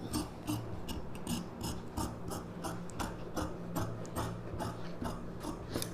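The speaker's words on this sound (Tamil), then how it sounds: "இந்த ஷோல்டர் வந்து கட் பண்ணிவிடுங்க" Scissors cut blouse fabric straight along the shoulder line, a run of steady rhythmic snips and rasping strokes repeating for several seconds, close and clear with no talking.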